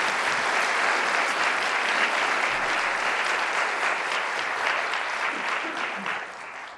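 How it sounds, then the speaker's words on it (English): Sustained, dense applause from an audience at an executive forum on diversity and inclusion, loud and steady throughout before tapering slightly at the end. "Let's give these guys a big round of applause."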